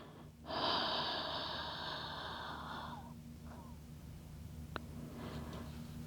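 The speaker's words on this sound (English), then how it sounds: "Finish your exhale and let every droplet of breath out." Long breathy exhale during an evening yoga flow, a close airy rush lasting a couple of seconds that fades into soft background hum, with a faint click afterward.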